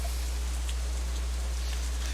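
Steady rain ambience from the visual novel game Katawa Shoujo, a constant dense hiss of falling rain with a low hum underneath, even and unbroken throughout.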